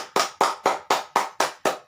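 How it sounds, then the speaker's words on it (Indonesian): A class of elementary school students applauds a group, with a steady run of about eight rhythmic clap bursts close by and no talking. "sekarang tepuk tangan untuk kelompok 1"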